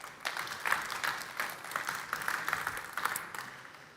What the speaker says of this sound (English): Michael, please, an applause.